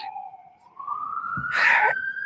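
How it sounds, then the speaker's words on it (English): An ambulance siren passes by, a loud rising and falling wail that swells as it nears, with a burst of road noise as it goes past, no talk over it. "it's an ambulance"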